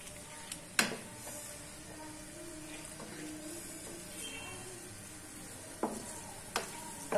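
Onions fry with cinnamon, cloves, green and black cardamom and bay leaf for a chicken karahi, a low steady sizzle under a few sharp spoon scrapes and clinks against the pan.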